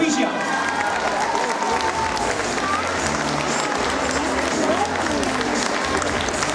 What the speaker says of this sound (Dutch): Met uw applaus, de Dwergkees Provisia